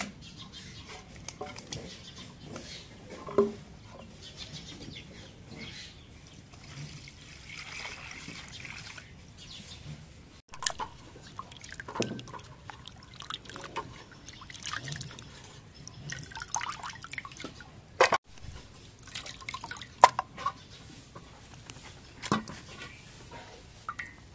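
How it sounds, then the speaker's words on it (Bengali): Lentils and rice washed in water for broiler chicken khichuri on a winter morning, with drips, splashes and trickles coming in uneven bursts, close and soft, against a quiet background. "কালাই চাউল ধুয়ে নাও"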